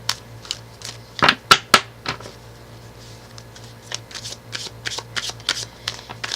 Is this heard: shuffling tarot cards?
yes